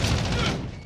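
A stun grenade goes off in a video game, a loud short burst of noise with a booming crash that fades within a second.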